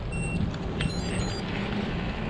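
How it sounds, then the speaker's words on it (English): Steady electronic beeping tones from a Garmin GPS unit sound over a constant road and engine rumble from inside a moving vehicle. "Pardon the Garmin beeping in the background."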